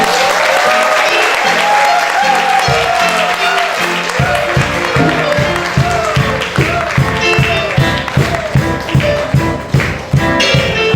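An audience at a Christian preparatory school graduation ceremony, a dense burst of applause that settles into rhythmic, evenly paced group clapping, loud and sustained, with some voices underneath.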